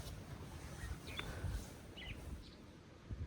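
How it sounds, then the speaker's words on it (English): Faint bird chirps scattered over a soft outdoor hush at a campsite, a few brief calls rising above low rumbling background noise. "listen to those birds."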